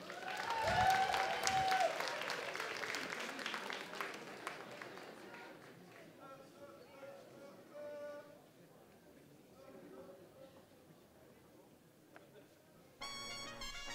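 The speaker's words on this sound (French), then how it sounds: "Alors on vous demande d'applaudir bien fort" An audience at a cosplay contest claps loudly at first, with voices and whoops mixed in, then the applause fades under quieter talk and music before a brief louder passage at the end.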